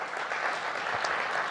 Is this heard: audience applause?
yes